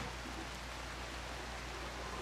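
Steady, soft rain hisses evenly throughout a RimWorld colony scene, a continuous quiet wash of falling water with no distinct drops or pauses and no voices.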